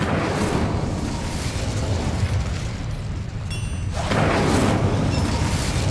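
A fire spell, Incendio, cast in the Hogwarts Legacy video game: a sustained roaring, whooshing burst of flame fills the whole stretch, swelling again near the end, loud and close with no talk.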